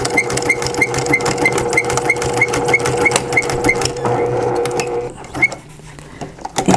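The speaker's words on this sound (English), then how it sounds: "Continue sewing." Sewing machine stitching a coupon wallet, with a close, steady mechanical whir and a regular rapid clicking of the needle that runs for about four seconds before slowing and stopping into a few handling knocks.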